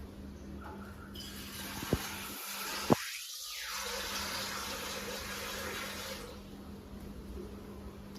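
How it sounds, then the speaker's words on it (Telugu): Water runs from a tap into a pot of potatoes. The flow is a quiet, continuous rush broken by a couple of sharp clanks, then it tapers off near the end with no talking. "సరిపడి వాటర్ పోస్తాం."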